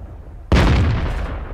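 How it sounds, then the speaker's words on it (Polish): The cannon of an STB-1 medium tank fires once in a tank video game, a sudden loud boom with a long rumbling decay, after a quiet lead-in and with no talking over it. "Dalej, armata."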